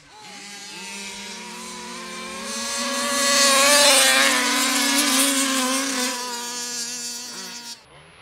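Nitro RC cars, an ALX50 and an RCMAX55, running side by side in a drag race, their high-pitched buzzing engines whining steadily, swelling louder as they rev and pass nearby, then cutting off abruptly.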